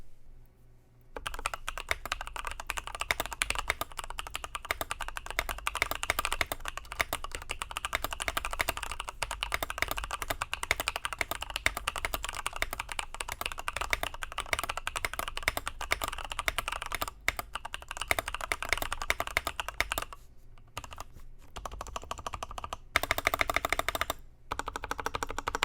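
Steady, continuous typing on a Skyloong GK64 mechanical keyboard, a dense run of close-up key clacks at an even pace, fairly quiet with brief pauses near the end and no voice.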